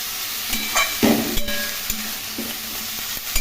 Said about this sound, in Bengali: খুব ভালো করে এগুলো নাড়াচাড়া করে ভেজে নেব